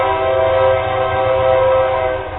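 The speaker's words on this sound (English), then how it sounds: "You gotta fucking love that train." A passing train sounds its horn in a loud, steady, sustained blast over the heavy rumble of rail cars, with no talking.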